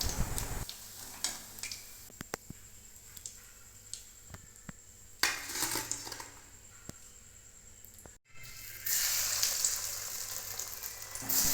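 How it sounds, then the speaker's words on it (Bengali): Fish fingers frying in hot oil, with a steady close sizzle and scattered clicks and taps of utensils, with a louder crackling burst near the end. "বাকিগুলোও আমি একইভাবে ভেজে তুলে নেব।"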